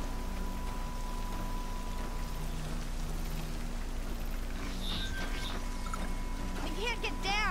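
Rain falls steadily in Horizon Zero Dawn, a constant wash of drops that runs all the way through, with a few chirps and tonal game sounds rising near the end.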